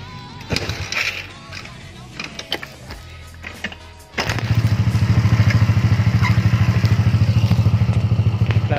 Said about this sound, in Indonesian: Ini kayak mesinnya tuh berisik ngericik gitu-gitulah nih. Kalian dengerin aja nih ya. Gue sela ya.